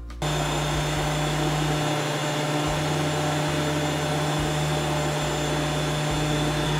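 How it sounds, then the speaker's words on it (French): A Kenwood Cooking Chef stand mixer runs its balloon whisk at speed 4 on Swiss meringue warmed to 45 degrees, a steady close motor drone with a pulsing low rumble and no voices. "Il ne me reste plus qu'à activer le fouet ballon sur la vitesse 4."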